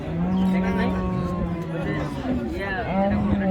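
A Friesian cow at the Ambari cattle market in Dinajpur lets out long, loud, close moos over a continuous murmur of crowd chatter.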